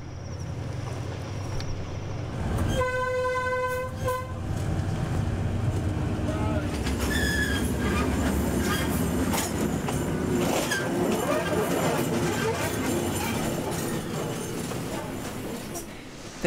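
A train in Myanmar rolls through railway switches, with a clear horn blast early, then rattling, clanking wheels and metallic knocks as the carriages cross the points, heard close up with speech over it.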